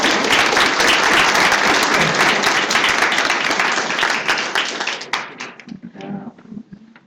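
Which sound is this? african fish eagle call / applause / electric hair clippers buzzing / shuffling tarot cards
applause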